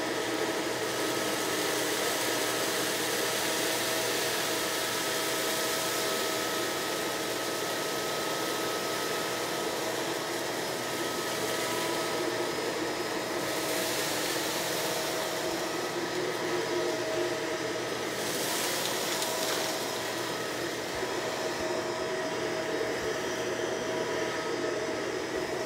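Shark Rotator vacuum cleaner with duo fins running across hardwood and carpet, a steady broadband whir and hiss held at a constant level for the whole stretch, close and loud with no talk.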